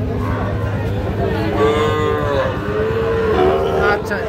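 Sahiwal bull calves moo loudly and close at a busy Ranigonj cattle market, one long drawn-out call rising over a constant low crowd murmur.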